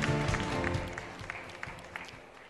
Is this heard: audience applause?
yes